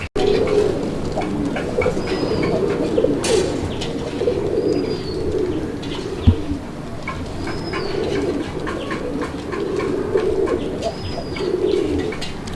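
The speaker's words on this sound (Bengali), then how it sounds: "আমরা কবুতরটার ডাকটা কীরকম এই ডাকটা দেখানোর চেষ্টা করতেছি আপনাদেরকে" A Raj-golla pigeon coos repeatedly in low, throaty rolling phrases, with a few high chirps and a brief thump in between.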